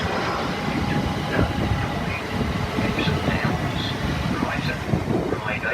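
A Class 377 electric train rumbles past at Gatwick Airport on the Brighton Main Line, a steady close rolling roar with wheel clatter and wind buffeting on the microphone.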